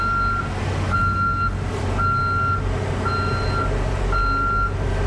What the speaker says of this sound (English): Turn that beeper off.